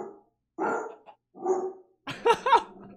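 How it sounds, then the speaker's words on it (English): Dog barking played back from an Alexa smart speaker: three separate bark bursts with short gaps between them, the last a double bark, heard alone and fairly close. "Alexa, play dog sounds."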